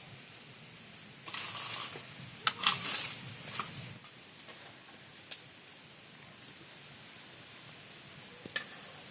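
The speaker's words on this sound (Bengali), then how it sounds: "হালকা গরম তেলেই এই জিলাপি বা কালো জাম যেটাই বলেন ভেজে নিতে হবে" Sweet potato gulab jamun fry in warm oil, first with a louder sizzle and crackle, then easing to a quieter steady bubbling with occasional sharp pops.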